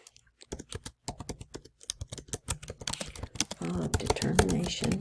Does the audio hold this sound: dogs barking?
no